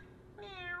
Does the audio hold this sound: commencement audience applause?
no